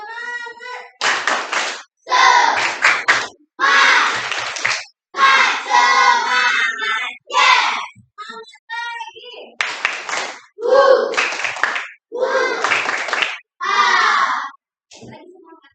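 A group doing the rhythmic 'tepuk semangat' clap chant in a classroom setting, bursts of voices chanting in unison alternating with sharp clapping patterns, loud and close, separated by short pauses.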